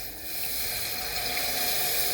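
Water or broth pours steadily into roasted tomato soup, a continuous close rushing that builds slightly and holds, with no talk.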